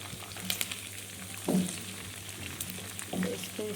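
Chicken kadhai, Peshawari charsi style, frying in oil in a kadhai, with a soft steady sizzle and two brief bursts of stirring and scraping as the pieces are mixed, close and fairly quiet.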